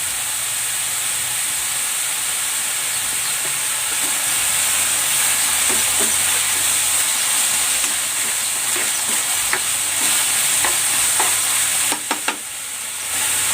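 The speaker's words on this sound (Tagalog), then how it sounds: "Igigisa ko na rin tong paro at ang bagu beans." Small shrimp and green beans stir-fried in a pan, giving a loud, continuous sizzle with steady hiss and occasional scraping clicks of the stirring utensil, no talk over it.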